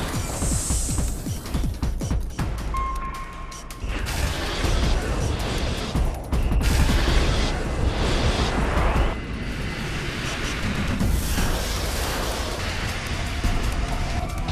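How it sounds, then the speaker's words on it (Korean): A submarine fires a torpedo in a surprise attack, heard as heavy thuds and a rushing, roaring blast with layered mechanical rumble and booming impacts over a loud dramatic mix. "그리고 느닷없이 펼쳐지는 기습 공격. 어뢰 발사."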